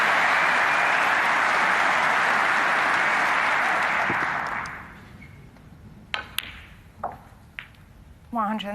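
Loud, dense applause from a snooker crowd celebrating a century break at the German Masters semi-final, sustained for several seconds before fading out, followed by a few sharp ball clicks and a brief voice near the end.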